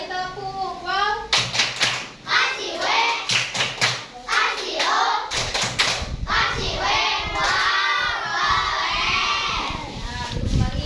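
Schoolchildren in a fourth-grade classroom clap together in short rhythmic bursts of sharp claps, mixed with excited children's voices and cheering.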